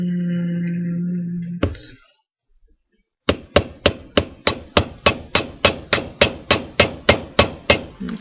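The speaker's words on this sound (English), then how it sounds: "I open these up a little bit to do that so that I'm not hammering any other part" Copper ear wire struck with a small hammer, a steady series of about sixteen sharp metallic taps at an even rhythm, close and loud, following a brief hum and a short silence.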